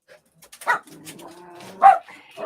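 Dogs give a few short, close barks and yips with a faint whimpering tone between them, sounding indoors and fairly quiet overall.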